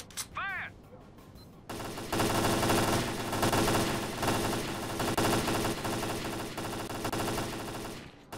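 Sustained machine gun fire in the game S.T.A.L.K.E.R.: Clear Sky, dense rapid bursts that run loudly for several seconds after a short spoken line.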